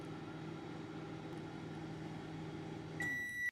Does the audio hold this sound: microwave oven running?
yes